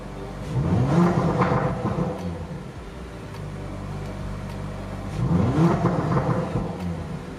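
Exhaust cracks and pops from an Audi RS5 Sportback in dynamic mode as the engine revs up twice, each rising vroom followed by a settling idle, close and loud with no voices.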